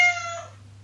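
A cat meows once in a short, clear sound effect from an Alexa game. It starts loud and fades within a second.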